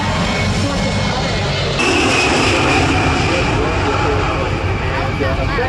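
A military multi-role jet aircraft passes overhead at a plane-spotting event, producing a loud, steady broadband roar that holds for several seconds and swells slightly partway through.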